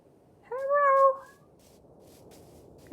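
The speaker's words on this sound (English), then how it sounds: "Oh, my cat is calling to her kitten." A mother cat calls out to her kitten in the morning with a single clear, drawn-out meow lasting about half a second, close and distinct against a quiet background, with no one talking.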